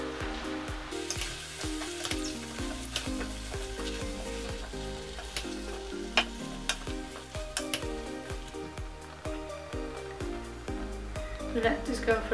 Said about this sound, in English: Let this go for about 3 minutes, frying, stirring occasionally